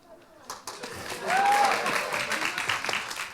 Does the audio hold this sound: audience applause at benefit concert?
yes